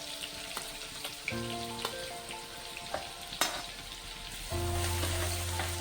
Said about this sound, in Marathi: आता हा लसूण टाकून घेते मी. लसूणही आपल्याला छान भाजून घ्यायचा आहे.